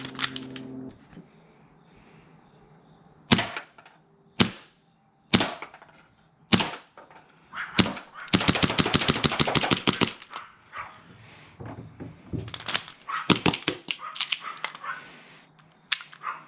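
A Hi-Capa airsoft pistol fires sharp, close snapping shots, first spaced out singly and then in a rapid rattling burst, followed by further quick clusters of cracks with quiet pauses between.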